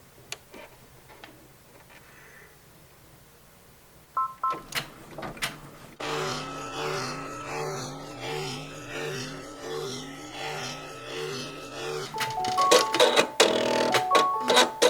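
Brother PRS100 embroidery machine stitching a red tatami fill on a patch, rapid rhythmic ticking and clattering of the needle with mechanical whirring, close and steady, growing busier and louder toward the end, no talking.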